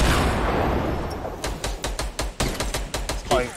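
Rapid gunfire in Fortnite Battle Royale, a run of about ten sharp, evenly spaced shots that starts after a noisy opening stretch, loud and close.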